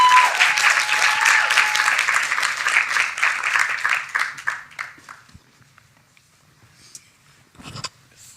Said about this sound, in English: So a round of applause to our two creators, please